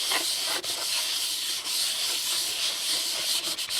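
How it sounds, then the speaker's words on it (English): Very fine sandpaper rubs steadily over a part on a 1964 Honda S90 motorcycle. It makes a close, continuous hissing rasp with brief dips between strokes, and no one speaks. "This is very fine sandpaper. See if we get all that garbage off."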